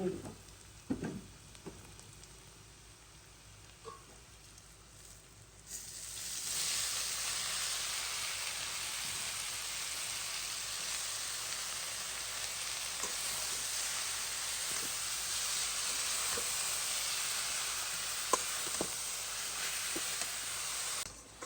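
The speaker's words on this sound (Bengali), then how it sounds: "তো লাল শাকটা দিয়ে দিয়েছি এখন নাড়বো" Red spinach tossed into a pan with fried onions, salt and turmeric, giving a steady loud sizzle and hiss that swells after a few quieter seconds, with occasional stirring scrapes and no talking.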